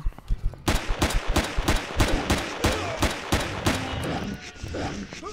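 Rapid gunfire from a weapon in Empyrion Galactic Survival, about a dozen sharp shots in a steady rhythm, close and loud, followed by quieter game sounds.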